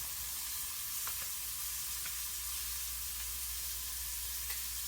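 Shrimp frying in a pan for kiwi lime shrimp, a steady close hissing sizzle with occasional faint pops, constant and even throughout with no talking.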